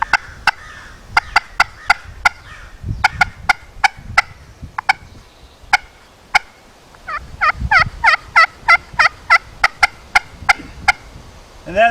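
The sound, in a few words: turkey call imitating an excited hen turkey's cutting clucks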